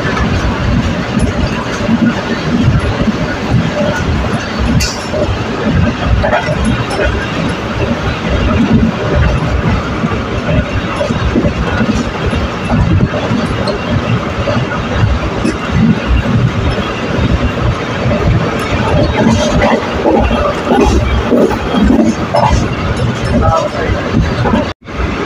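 The Jaffar Express passenger train running through a station between Lahore and Okara, heard from inside with a continuous loud rumble and rhythmic clickety-clack of wheels under background chatter.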